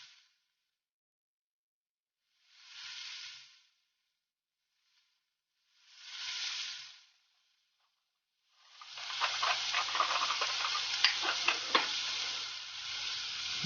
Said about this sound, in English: we're going to use that same bacon grease, you know what I mean, that delicious flavor. That's what we're going to fry our shrimp in.